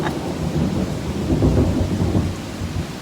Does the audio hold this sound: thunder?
yes